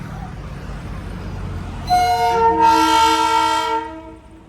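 A diesel train's horn blares loud and close in a long, sustained blast with a brief break, over the low rumble of the passing train at a Darjeeling railway station in the Himalayas.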